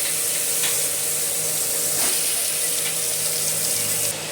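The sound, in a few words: ridge gourd frying in oil with nigella seed tempering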